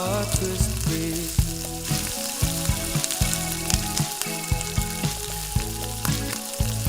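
Bay leaves, cinnamon and cloves crackle and sizzle in hot mustard oil for a kabli chana ghugni, a bright continuous fry with small pops, layered over a steady rhythmic musical backing.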